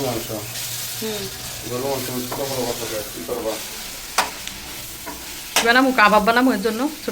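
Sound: food being stirred and fried in a pan

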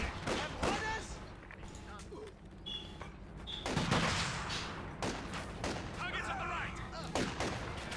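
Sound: machine gun fire in video game Company of Heroes 2

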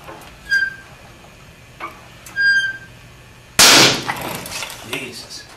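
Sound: wooden beam snapping under load

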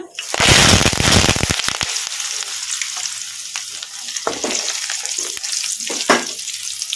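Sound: garlic and curry leaves frying with mustard and cumin

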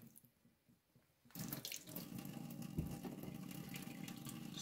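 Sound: tap water running to wet cotton wool for shoe polishing

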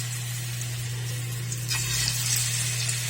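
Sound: maruya (banana fritters) in flour batter frying in hot oil

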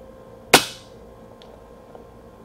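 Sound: FX Impact air rifle shooting a magazine of pellets

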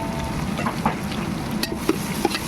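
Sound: tomatoes sautéing in a pan

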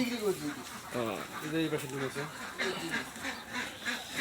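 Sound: ducks quacking

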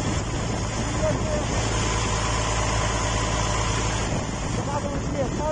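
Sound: dredger engine idling

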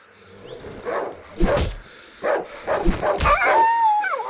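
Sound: dog barking and whimpering in the video game Darkwood

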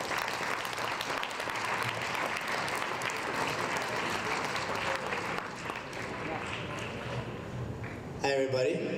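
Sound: audience applause welcoming a speaker

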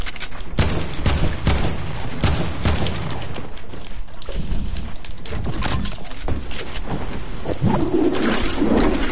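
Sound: gunfire from shooting at an enemy in a video game

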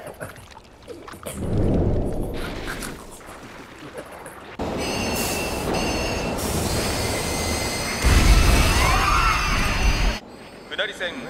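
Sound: train arriving at a station platform in a video game, Persona 5 Royal

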